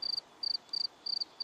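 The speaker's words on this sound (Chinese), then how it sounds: "蟋蟀代表就是无聊咯" Cricket chirping used as a boredom sound effect: short high trills in regular bursts, five pulses repeating at an even rhythm, clear and steady with no voices.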